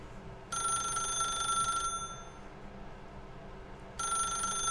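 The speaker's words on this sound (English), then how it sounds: "What happens if I don't pick up the phone as in just let it ring?" A telephone rings in the video game The Stanley Parable Ultra Deluxe, two loud electronic ring bursts separated by a pause, clear and alone over a quiet background hum.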